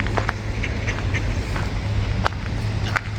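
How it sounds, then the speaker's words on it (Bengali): Ducks in a park quack repeatedly while they wait for food, with short scattered calls rising over a steady low outdoor hum. "হাঁসগুলো খাবারের জন্য রেডি হয়ে আছে।"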